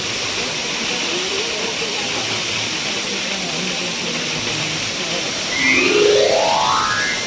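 Kapil Dhara waterfall at Amarkantak pours down from a great height, a loud, steady broadband roar of falling water that continues throughout, with a faint rising whine near the end.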